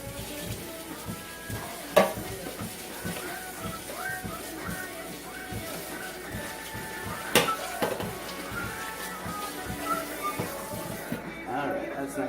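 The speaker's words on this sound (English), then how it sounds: "So go ahead and clean our spatula." Eggs fry with a steady sizzle in a pan while a spatula is scraped and wiped clean, giving occasional clinks and scrapes over the constant crackle, with the cooking close up.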